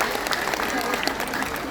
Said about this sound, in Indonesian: Tepuk tangan buat Renner.